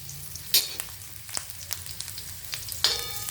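Garlic sautéing in oil in a pan for cut vada rassa, a soft steady sizzle with a few light scrapes and clinks of a spoon moving it around, close and fairly quiet.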